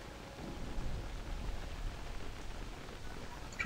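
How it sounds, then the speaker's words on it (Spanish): Steady rain falls in the survival game Don't Starve Shipwrecked, a soft, even hiss of noise that continues unbroken at a low, constant level without any speech. "Sigue la lluvia."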